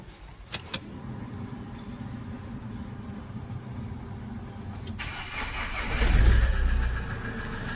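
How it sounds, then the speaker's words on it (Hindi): A Mahindra XUV500 engine cranks and catches, following a few quiet clicks, then settles into a steady idle rumble close by, with no talking. "एक मिनट पहले हम गाड़ी को करते हैं स्टार्ट।"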